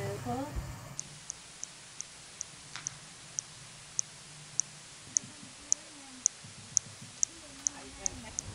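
Harbour porpoise clicks picked up by an underwater hydrophone, a regular train of sharp faint ticks about twice per second over a low watery hiss, with a voice talking at the start.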